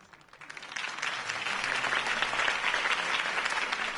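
A crowd applauds after a political campaign speech in the Batman Telltale game, the clapping swelling from quiet into a dense, sustained roar that holds steady for several seconds.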